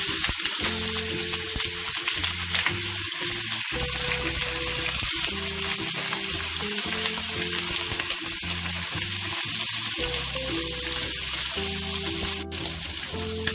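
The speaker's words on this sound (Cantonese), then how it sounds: "先煎一煎呢個排骨" Pork ribs, washed with a little flour, sizzle and spit steadily as they pan-fry, a loud, dense crackle filling the whole stretch up close with occasional stirring or shifting and no talk.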